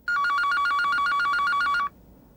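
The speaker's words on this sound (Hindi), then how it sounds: "इतनी रात को फोन किसका हो सकता है?" A telephone rings at night in a quiet home, a loud electronic bell trilling in rapid pulses for almost two seconds before cutting off into near silence.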